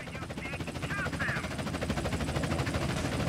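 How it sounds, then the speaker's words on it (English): A helicopter in GTA San Andreas, with a close, loud, steady chopping rotor pulse that throbs rhythmically throughout, and a few brief chirping tones near the start. "Let's steal the helicopter."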